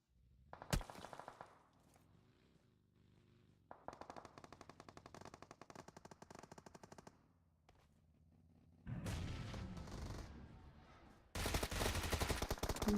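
Bursts of rapid automatic gunfire from a team-based shooter in a collegiate esports league match, coming in several loud clusters with brief gaps between, the final burst the densest and loudest.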